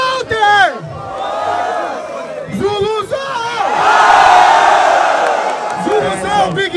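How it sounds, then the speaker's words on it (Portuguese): A crowd at a Brazilian freestyle rap battle roars, whoops and shouts in loud, rising waves, with individual voices yelling sharply over the swelling noise. "Barulho para cima de Nicolas Walter."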